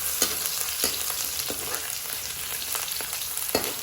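Crushed garlic and ajwain sizzle steadily in a hot wok, a continuous close frying hiss broken by a few sharp stirring scrapes, with no voices.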